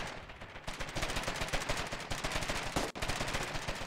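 Sustained rapid automatic gunfire in a war video game, a dense rattling burst of machine-gun shots that runs loud and continuous for the whole stretch with only a brief break near the end.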